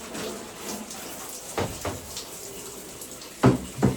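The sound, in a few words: water sprayer turned on, spraying refrigerator drawers during cleaning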